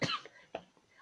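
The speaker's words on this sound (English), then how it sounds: "I keep coughing" Someone coughs: one harsh, close burst, then a couple of smaller throaty coughs trailing off, with no speech.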